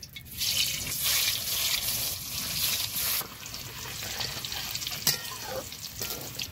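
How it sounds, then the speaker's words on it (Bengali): Boiled potatoes, pre-cooked with turmeric and salt, fry in the same oil just used for frying eggs, giving a steady loud sizzle with a few stirring scrapes and clinks throughout. "ডিম ভাজা ওই তেলে আলু আমি ভেজে নেব"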